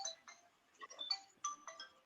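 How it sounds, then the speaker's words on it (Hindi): Mobile phone ringtone playing faintly in the background, a short melodic tone pattern repeating in quick bursts. "अरे लोकेश्वर क्या फोन कर रहा है इसमें, आज बैठक है।"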